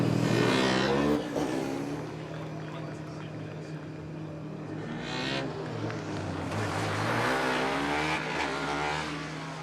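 Formula Student race car from the UK 2019 competition, finishing the endurance event with a steady engine drone that rises and falls as it passes, heard under an excited commentator's voice.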